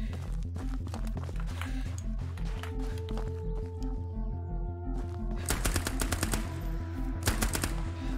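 An MP40 submachine gun fires in a video game, sounding as rapid bursts of loud automatic shots over a steady rhythmic in-game background, with the densest volleys toward the end.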